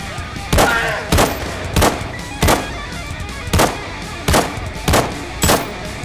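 Handgun shots fire in the ZeroCaliber VR shooter game, eight sharp, loud reports spaced at a slightly uneven pace of roughly one every half to three-quarters of a second, over a low background hum.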